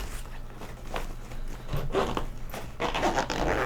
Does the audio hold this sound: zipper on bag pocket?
yes